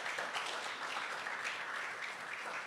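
A church congregation applauding during a Spanish-language sermon on stewardship: dense, continuous clapping that fills the room at an even, sustained level.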